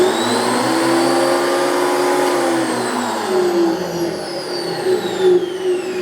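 A Makita 2012NB portable planer runs with a low, steady motor drone and faint high harmonics, pitch sagging slightly as it spins down midway, then holding, loud and close with no talk.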